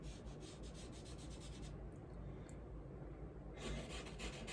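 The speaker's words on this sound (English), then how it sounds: "the sandpaper itself can almost sand them down for you" Sandpaper rubbed lightly in circular strokes over a pencil drawing, a steady close-up scratchy rasp that continues throughout with brief lighter moments and no talking.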